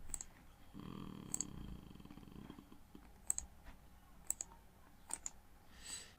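A computer mouse gives a handful of faint, sharp clicks, scattered singly and in quick pairs over a soft low hum in a quiet room.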